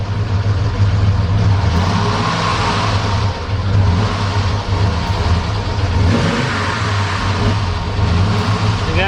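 A high-mileage Sierra 6.0 V8 runs after a camshaft swap, a steady close engine drone with a strong low rumble and slight rises in revs, alone without talk throughout.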